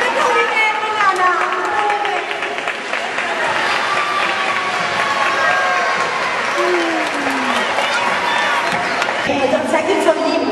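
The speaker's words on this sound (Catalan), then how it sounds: "Un aplaudiment per Nana." Steady, dense clapping from a crowd at a school maths-puzzle prize event for Nana, with children's chatter and excited voices running underneath, fairly loud and continuous for the whole stretch.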